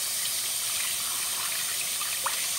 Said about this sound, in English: sorry if this is loud, I gotta turn on the sink